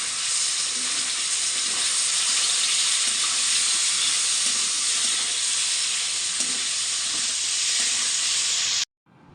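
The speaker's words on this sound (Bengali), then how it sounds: "পনিরটাকে ছেড়ে দিচ্ছি। আর তেলের মধ্যে নুন দিয়েই রেখেছি, শুধু একটু হলুদ দিয়ে দিচ্ছি ওপর দিয়ে" Paneer frying in oil seasoned with salt and a sprinkle of turmeric gives off a steady, loud broadband sizzle that holds evenly for about nine seconds, with faint stirring clicks beneath it, and then cuts off abruptly.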